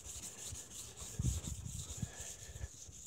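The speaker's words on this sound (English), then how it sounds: "that's about enough wet sand" Wet sanding of a car hood by hand, soft close rubbing strokes in an uneven rhythm over a faint steady hiss, fairly quiet with no talk.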